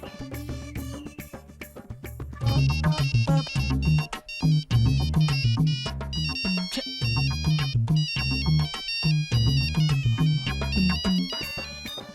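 A bright electronic mobile ringtone melody plays loudly and continuously, repeating its tune with a thumping beat and no talking.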